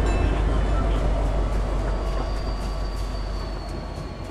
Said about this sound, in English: Hey, look, the train is passing by.